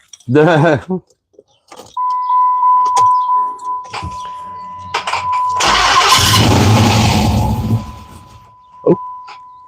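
Keys jingle and a Dodge Hemi 5.7L V8 starts with a warning chime, then roars loudly through a newly fitted exhaust and rumbles deep before settling; voices speak briefly around it.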